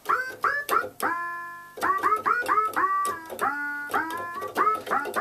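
A 1970s Korg Mini-Korg 700 analog synthesizer on its 8-foot setting, notes repeatedly swooping upward via the pitch bender, a quick series of bending tones with brief gaps, electronic and clear with no voices.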